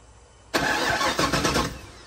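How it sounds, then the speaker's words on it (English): After a quiet moment, the starter of a turbocharged 5.3 truck engine suddenly cranks with a loud, rhythmic churning as the motor turns over. "you can hear the starter"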